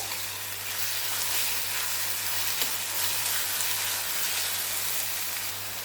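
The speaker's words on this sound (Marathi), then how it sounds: "आपल्याला टोमॅटो नरम होईल तर हे सुद्धा व्यवस्थित परतून घ्यायचं आहे" Finely chopped tomatoes sautéing in a pan for a gram-flour and onion vegetable dish, giving a steady, soft, close sizzle that stays even throughout with no voices.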